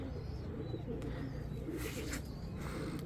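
Sina pigeons coo softly at close range, low murmuring calls repeating against a quiet, slightly noisy background.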